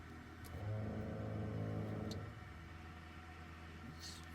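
A Cessna 421C geared piston engine starting up, with a low rumble swelling for about two seconds and then settling into a quieter, steady hum heard from inside the cabin.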